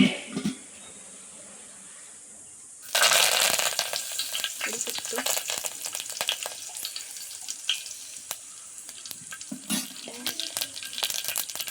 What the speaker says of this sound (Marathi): भाजी घालूया फोडणीला.